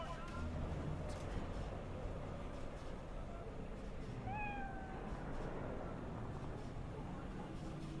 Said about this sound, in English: Is there more than one cat?